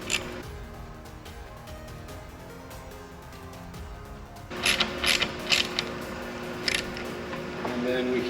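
A screw is backed out of a Jeep JK seat with a ratcheting tool, producing steady mechanical whirring and clicking close by, then sharper, louder ratchet clicks in the second half.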